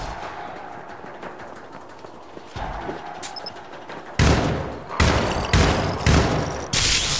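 Gunfire in the video game Syndicate, starting as faint distant shots and then turning into loud, close bursts of automatic fire in several sharp volleys.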